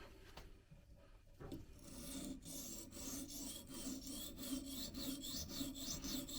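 A pocket knife blade is ground on a coarse 150-grit sharpening stone, giving a close, steady rasping scrape in repeated strokes after a brief quieter start.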